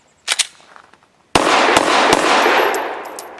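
A folding pistol fires Speer Gold Dot 115 grain hollow point rounds: a couple of quick, sharp reports, then a heavy blast followed by several more rapid shots ringing out over a long, noisy echo.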